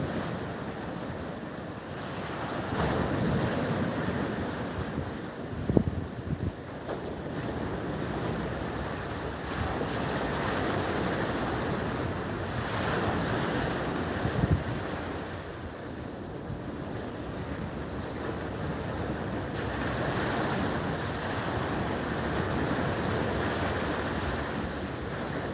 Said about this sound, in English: The seas started to calm down though. That's because there's less wind.